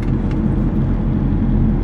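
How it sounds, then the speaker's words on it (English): Steady, close rumble of car engines and tires from traffic on a cold-weather road where lanes merge down to one, a continuous low drone with no voices. "All these cars."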